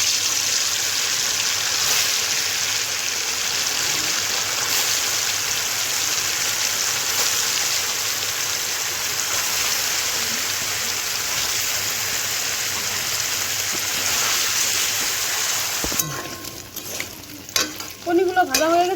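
Paneer pieces frying in hot oil give off a loud, steady, close sizzle that runs unbroken for most of the stretch, then turns choppier near the end with a few utensil knocks.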